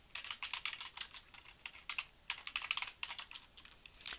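Someone types on a computer keyboard at a steady, quick pace, with soft clustered clicks and short pauses between bursts, quiet and close.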